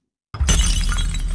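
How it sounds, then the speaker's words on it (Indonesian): After a moment of silence, a ceramic baby doll hits the floor and shatters in one loud, close crash, followed by a brief scatter of breaking pieces. "Ethan dijatuhkan hingga boneka bayi keramik itu pun pecah"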